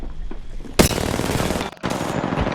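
Rapid automatic gunfire from a firefight in the battle royale video game Apex Legends, a loud sustained burst of shots with a sharp onset, a brief gap near the end, then firing resumes.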